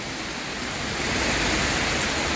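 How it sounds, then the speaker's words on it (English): Water pours from a switched-on flow during Chiang Mai's rainy season, a dense, steady rushing wash like heavy rain or a waterfall, loud and unbroken, swelling slightly halfway through. "You open the water flow, and that's your rainy season."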